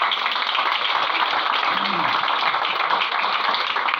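A church congregation applauding during a worship service, a steady dense wash of many hands clapping at even loudness throughout, heard from within the crowd.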